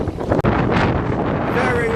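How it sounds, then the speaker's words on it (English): Strong wind buffets the microphone, loud and continuous, over a low rumble that sounds like water and an engine, on a boat on a river. "Very windy"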